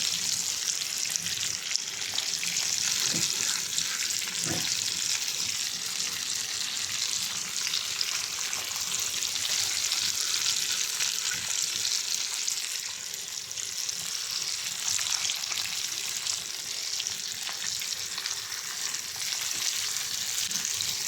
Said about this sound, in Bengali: এবার আমি মশলা মাখা পেঁয়াজটা দিয়ে দেবো, পেঁয়াজটাও ফ্রাই করে নেব।